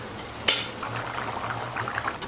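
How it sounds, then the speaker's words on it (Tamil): A sharp clink of a utensil, then coconut milk is poured into a simmering chana dal gravy, with soft bubbling and burbling continuing steadily. "இப்போ நம்ம தேங்காய் பால் விட்டுக்கலாம்"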